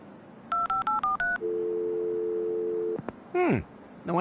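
Telephone keypad tones in Leisure Suit Larry: Wet Dreams Dry Twice, five quick beeps followed by a steady held tone, then descending electronic chirps, clear and close.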